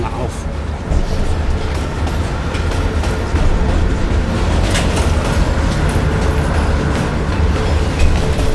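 Steady rumbling and rattling of a slowing train in Call of Duty: Black Ops Cold War, heard from inside, with continuous low mechanical noise throughout.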